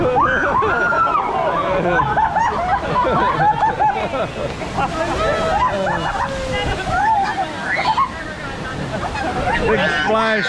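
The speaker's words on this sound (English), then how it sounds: "Big splash there." Water crashes and sloshes heavily around a theme-park boat ride at Animal Kingdom, a loud sustained rush lasting several seconds, while a crowd of riders shouts and babbles over it.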